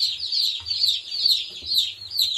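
Chickens on a homestead clucking steadily in a close, continuous chorus of chirpy calls.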